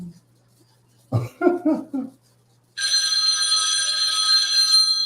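A telephone bell starts ringing loud and close after a cough and a few short vocal sounds, then rings on continuously to the end.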